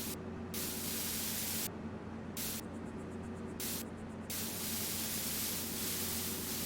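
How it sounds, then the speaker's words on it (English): Spray paint animation in the Farming Simulator 22 video game, a steady loud hiss of aerosol spraying that runs continuously and briefly thins in places, with no speech over it. "the spray paint animation is pretty cool, I guess. It sounds like spray paint."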